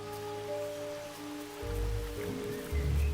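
Rain falls steadily through a Carpathian mountain forest, a soft continuous patter on leaves and ground, joined by low rumbling and tonal hum that swells in the last second and a half.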